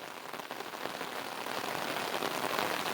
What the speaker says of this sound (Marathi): चांगला पाऊस लागतोय मित्रांनो गावाला.